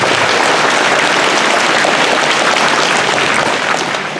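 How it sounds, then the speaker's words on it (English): Loud, steady crowd applause at a show ring retirement ceremony, dense clapping throughout that begins to taper off near the end. "Everybody give Jonathan Fisher a round of applause."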